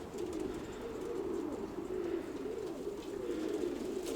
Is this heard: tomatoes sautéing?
no